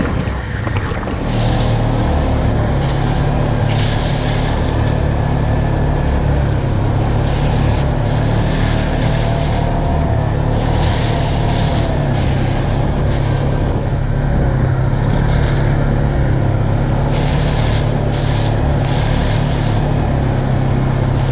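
Vehicle speeding across open tundra along a ridge, a loud continuous engine drone with heavy wind and rumble throughout, steady and close with no pauses.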